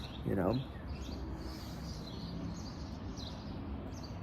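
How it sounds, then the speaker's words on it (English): Faint bird chirps scattered high over a low background murmur, with a brief louder vocal-like burst at the start; outdoors and fairly distant. "I enjoy the sound of the birds chirping."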